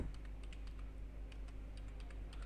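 Rapid keystrokes on a computer keyboard while entering a narration line in Tally Prime accounting software, an uneven run of close, light clicks over a low steady hum, with no talking.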